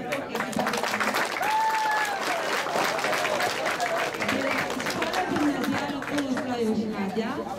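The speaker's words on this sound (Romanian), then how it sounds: "Aplaudați pentru echipa." Applause for a team at a school cup event, a crowd clapping steadily and loudly throughout, with chatter and voices mixed in underneath.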